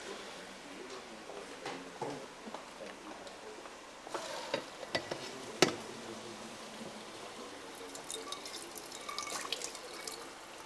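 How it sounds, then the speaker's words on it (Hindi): Water from boiled rice being poured off in a home kitchen during cooking of a Hyderabadi qubooli, a quiet splashy trickle with scattered drips and clinks, a few sharper spikes midway, no talking. "अब इसका मैं फेंकती हूँ पानी यहाँ पर।"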